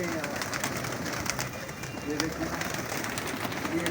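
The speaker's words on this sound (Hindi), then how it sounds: "ये देखें दोस्तों ढेर लगा हुआ कबूतरों का।" Many breeder pigeons coo softly and continuously in Lahore, a dense murmuring flock close by, with a voice speaking over them.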